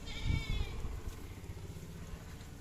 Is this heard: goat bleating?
yes